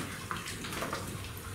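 Liquid pouring into a cooking pot to make two cups, a steady watery splashing and trickling heard close up and continuous, with no talking.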